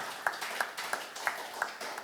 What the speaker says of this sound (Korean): 뜨겁게 우리 하나님께 감사의 박수를 치지 바랍니다